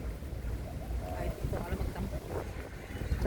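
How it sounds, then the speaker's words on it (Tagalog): Blustery wind buffets the microphone in a steady rushing roar among trees near yachts, with faint voices and outdoor activity blurred underneath. "Mahangin."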